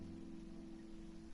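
Rain falls in Genshin Impact as a faint, even hiss over low droning background tones, steady throughout with no voices.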